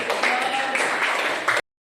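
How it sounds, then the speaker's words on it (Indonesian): A small class applauds together after a student's presentation, a steady dense patter of hand claps held for about a second and a half before stopping abruptly. "Kasih tepuk tangan."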